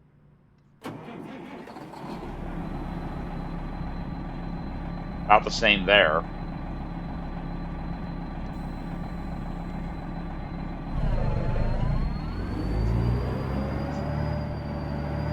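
A custom Peterbilt truck engine in American Truck Simulator cranks and starts, then settles into a steady idle with a brief revving swell near the end; someone speaks briefly over it.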